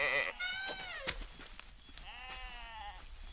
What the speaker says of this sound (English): Go on, go on, nice sheep.